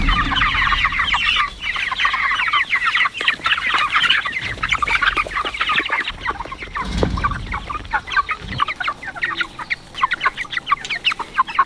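Chickens cluck steadily and close by around a chicken tractor, a dense flock chatter of overlapping calls continuing throughout with no talking.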